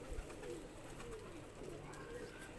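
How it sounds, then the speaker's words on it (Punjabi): A pigeon gives low, soft cooing in repeated warbling phrases, faint against a steady background hum, with a couple of coos spaced across the moment. "ਓਏ ਹੋਏ ਬੜਾ ਪੱਲਾ ਯਾਰ ਇਸ ਕਬੂਤਰ ਦਾ"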